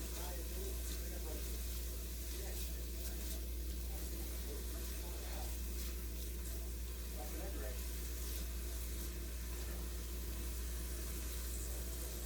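Sliced mushrooms sauté in a pan for Hungarian mushroom soup, giving a steady low sizzle with occasional stirring scrapes, quiet and continuous beside faint talk.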